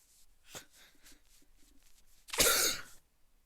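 A single harsh, raspy cough bursts out after a few faint quieter sounds, fairly close and loud.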